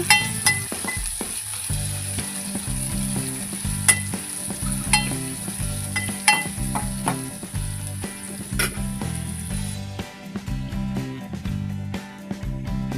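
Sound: sautéing chopped onions in a pan

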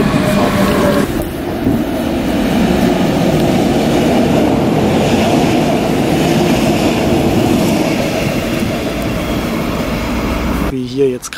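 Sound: BR 420 electric train passing

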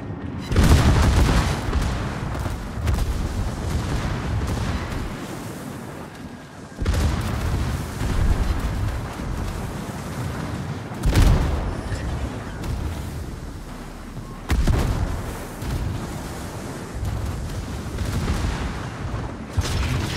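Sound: warship secondary guns firing in naval video game

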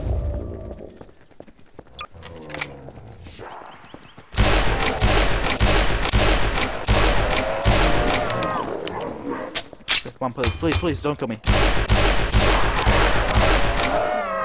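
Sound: gunfire in video game Garry's Mod

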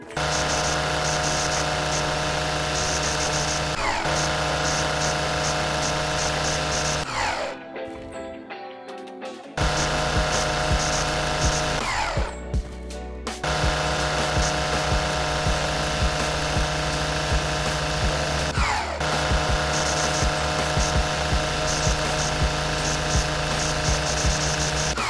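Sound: lawn mower engine mowing grass in Lawn Mowing Simulator video game

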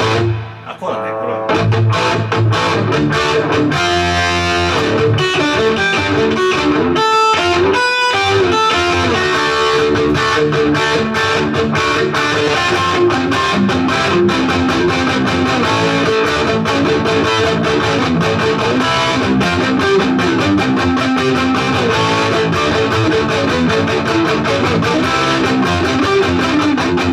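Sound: electric guitar with light reverb

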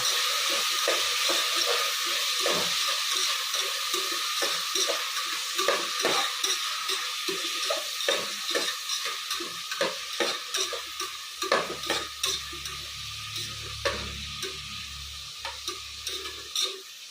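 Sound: ingredients frying in oil for cluster bean kurma

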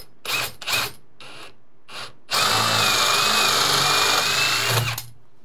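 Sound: power drill boring hole with 3/4 inch bit in door

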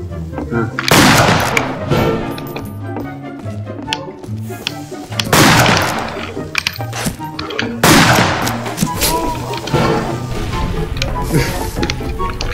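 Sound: gunfire in the video game Fistful of Frags

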